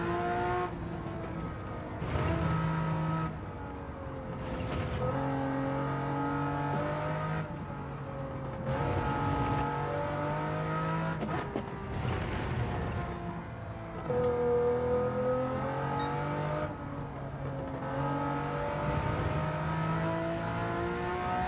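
Race car engine in the Gran Turismo 7 driving game, revving and shifting continuously with rising and falling pitch sweeps and repeated gear changes, loud and steady throughout with no talking.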